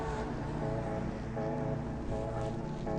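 Electric motorbike in drive mode 1 pulling away from a stop, a steady tonal motor whine with stacked harmonics rising and shifting over a constant rush of wind and road noise.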